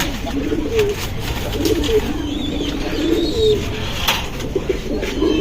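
Silver pigeons coo steadily in low, throaty, repeated calls, close by, with light background chirps and rustling throughout.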